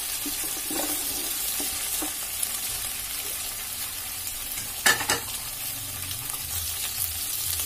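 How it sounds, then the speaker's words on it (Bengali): Vegetables and pulao rice frying in oil and being stirred in a pan for vegetable chicken pulao, a steady broadband sizzle with occasional scrapes and a sharper clatter near the middle, close and alone with no talking. "এটা আমি ভেজে নিচ্ছি।"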